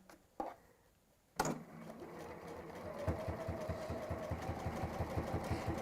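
A sewing machine stitches across a fabric pleat, starting after a couple of short clicks and a brief pause, then running as a steady, rapid, mechanical hum with rhythmic needle pulses, close and fairly quiet, with no voices.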